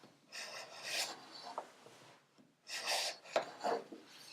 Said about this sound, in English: I'm just going to take wood from the bottom of the miter